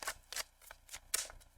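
A tarot deck is shuffled up close in several quick, crisp riffling bursts with brief pauses between them, quiet and with no talking.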